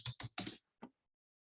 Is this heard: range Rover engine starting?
no